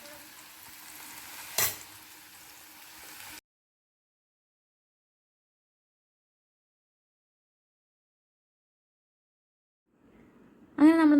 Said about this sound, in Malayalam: അങ്ങനെ നമ്മൾ നമ്മുടെ കടച്ചക്ക കംപ്ലീറ്റ് ആയിട്ടും വറുത്ത് കോരി